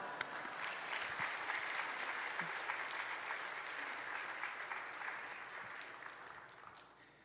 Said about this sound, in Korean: 우리 목사님 나오실 때 할렐루야 박수로 맞이하겠습니다.